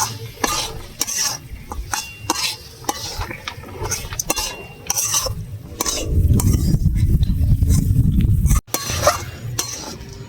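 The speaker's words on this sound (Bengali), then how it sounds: "এবার ভালো করে নেড়ে চেড়ে চিকেনের মধ্যে লেগে যায়" Chicken for chicken sahajiya is stirred in a pan with a utensil, giving steady scraping and clinking strokes over a soft sizzle that swells louder toward the end, then a brief pause.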